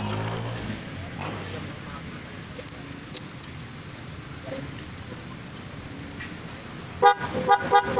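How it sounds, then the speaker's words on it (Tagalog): A car horn being tested during a repair, sounding as a few short, loud honks near the end after a stretch of low, quiet background noise. "Yung horn ito, try mo nga."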